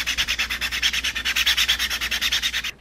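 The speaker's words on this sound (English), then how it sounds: "the sanding is a lot less involved than what you're about to see with the helmet" Sandpaper scrubs a 3D printed billy club in quick, even back-and-forth strokes, about two dozen rhythmic raspy passes, close and steady, then stopping abruptly.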